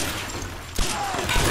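Enemy gunfire in Tomb Raider (2013) smashes stone pillars, a sustained rattle of shots with a heavy crumbling thud partway through, fairly close against a dense game background.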